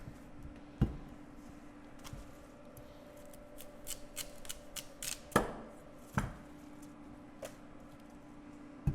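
A knife cuts the tops off fresh beets on a cutting board, giving scattered crisp chops and snips, some sharp and isolated, others in quick clusters, close and quiet with no talk.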